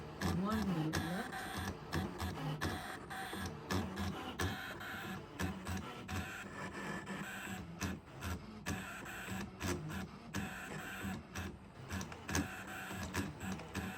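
A Brother ScanNCut SDX325 cutting machine slices fabric, giving a faint mechanical whir with rapid intermittent clicks and stepping motor bursts throughout, with some quiet speech in the background.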